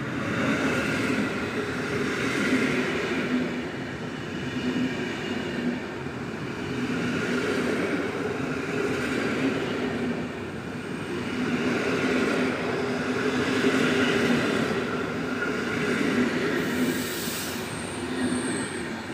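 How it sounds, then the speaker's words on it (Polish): At Warszawa Wschodnia station, the Intercity Lubuszanin hauled by locomotive EU160-008 rolls in with a steady rumble and rhythmic wheel noise, a faint squeal near the end, and no voices. "Wjeżdża pociąg Intercity Lubuszanin ze stacji Zbąszynek i Gorzów Wielkopolski do stacji Lublin Główny."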